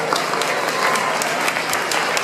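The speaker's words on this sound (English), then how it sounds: "Let's give Sophia a round of applause." Steady, loud audience applause at a Global Peace Foundation fundraiser for Nepal earthquake relief, continuous clapping throughout with no talk.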